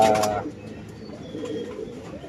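Pigeon kept as a pet cooing nearby, a brief soft burst at the start followed by low, muffled murmuring.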